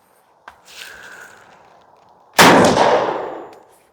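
A Charles Daly 101 single-shot smoothbore shotgun firing a 2 3/4 inch slug at a target: a faint click, a soft rustle, then one loud sharp blast that decays over about a second.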